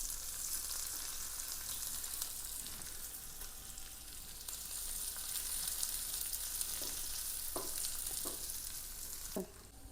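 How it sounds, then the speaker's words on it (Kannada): Onions sizzle steadily in a pan of hot oil while white pulao is being made, a continuous bright frying hiss with a few soft clinks and stirring scrapes near the end. "ಅದು ಕೆಂಪಗಾಗೋ ತನಕ ಹುರಿಯೋಣ. ನೀರುಳ್ಳಿ ಸೇರಿಸ್ತೇನೆ."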